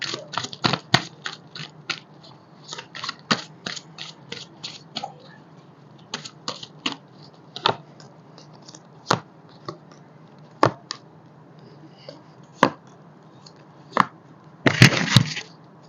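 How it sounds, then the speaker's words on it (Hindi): Tarot cards shuffled and tapped by hand, a quick run of crisp clicks that slows to sparse single snaps, ending in a short dense riffle, close and quiet with no talking. "थोड़े से और कार्ड्स मैं लूंगी"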